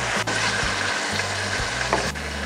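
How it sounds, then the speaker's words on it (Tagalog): Beef sizzles and fries steadily in a hot pan, a continuous loud crackle with stirring scrapes, no voices. "igisa itong ating beef"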